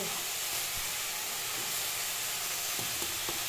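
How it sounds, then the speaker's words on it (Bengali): Jaggery fries in a pan, giving off a continuous close sizzle with a few light stirring taps and no speech. "গুড়কে ভাজবো।"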